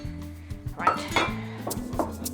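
Dried chilies and seasonings stirred together in an oven-safe dish for homemade chilli oil, giving a few light clinks and scrapes of a utensil against the dish at close range, with a person talking over it.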